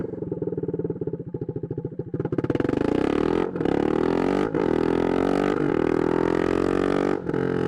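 A straight-piped 2022 Svartpilen 401 motorcycle idles with a choppy, rapid pulse, then revs up into a loud, sustained exhaust roar that dips briefly at gear changes as the bike pulls away close by.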